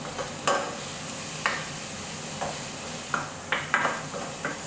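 Onions softening in a pan for Southern stewed okra and tomatoes, a steady quiet sizzle with several sharp stirring scrapes spaced through it, no talking.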